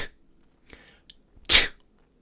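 A person imitates a sneeze without voicing it, producing a short breathy burst of expelled air with a soft 'chew' release, preceded by a couple of faint breaths and intakes.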